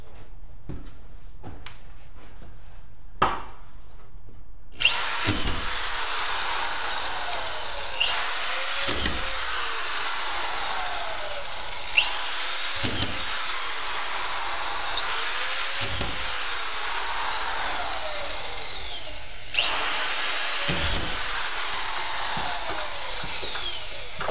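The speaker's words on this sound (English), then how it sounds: "So you simply just put your screw on it, spin it up to speed, and then drive it in." Screw gun spinning up and driving drywall screws during a property renovation, with repeated short whirring bursts every few seconds over a steady background hiss, fairly close and moderately loud, no talking.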